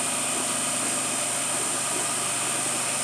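Steady whir of an Emco F1 CNC milling machine reaming at low speed, with a constant high whine and broadband noise, running evenly and close by without pause.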